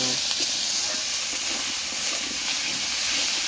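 Fried potatoes with tomato and ground garam masala sautéing with salt in a pan, a continuous close sizzle and hiss with faint stirring.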